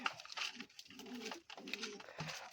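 Pigeons in a loft, desi and king breeds, coo softly and repeatedly at close range, low throaty calls overlapping in an irregular rhythm with no talk.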